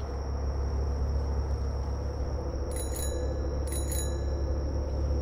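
A bicycle bell rings twice inside the horror game The Karaoke, two short bright chimes a second apart, set over a constant low hum and faint background noise.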